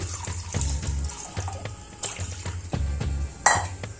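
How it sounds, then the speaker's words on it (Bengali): Water poured into a pan on a lit gas stove for boiling tomatoes, a continuous splashing pour with a low rhythmic hum in the background, close and moderately loud, with no talk. "এর মধ্যে আমি জল দিয়ে দিলাম।"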